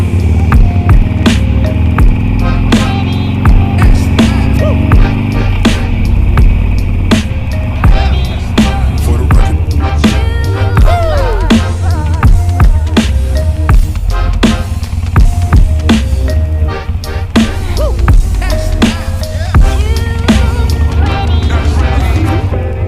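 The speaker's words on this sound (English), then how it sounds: "on idle this bike sounds lovely now with the baffles out" A small Harley-Davidson motorcycle idling with its exhaust baffles removed, a loud, continuous deep throbbing rumble with steady uneven pulses that stays close throughout, no talking.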